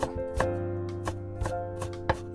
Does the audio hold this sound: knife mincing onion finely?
yes